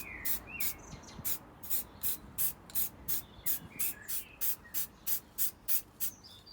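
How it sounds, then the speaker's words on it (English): Rapid bursts of spray primer mist onto a scooter restoration part, a dozen or so short hissing puffs in a steady rhythm, close and moderately loud, with a faint background hum. "I've just given this a very light misting of primer."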